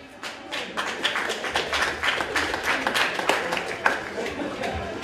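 Audience applause at a Silesian MMA Challenge weigh-in ceremony, a steady wash of many hands clapping throughout, moderately loud and continuous with a few sharper individual claps standing out.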